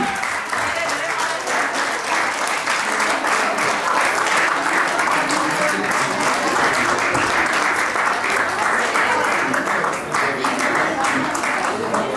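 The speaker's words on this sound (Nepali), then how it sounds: "कृपया सबैजना जोरदार ताली बजाइदिनु होला। ताली ताली।" An audience at a college farewell event claps loudly and continuously, a dense sustained wash of applause with voices mixed in.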